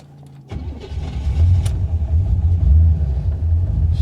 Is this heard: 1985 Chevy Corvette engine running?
yes